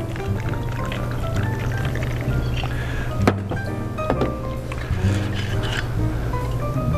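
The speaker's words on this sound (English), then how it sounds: "I'm going to take my half-filled with ice shaker and put 2 ounces of cognac in." Cognac pours into a cocktail shaker half-filled with ice in a continuous close splashing stream, with a couple of hard knocks from the shaker or bottle partway through.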